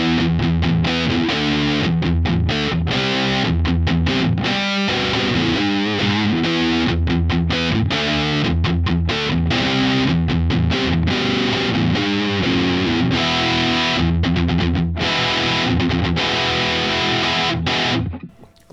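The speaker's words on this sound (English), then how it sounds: "the middle position is all 3 pickups, and that sounds kind of weird." A Chibson Ace Frehley Les Paul electric guitar with all three pickups selected in the middle position, played through heavy distortion for a long, loud, continuous riff of chugging chords and notes, with no talking.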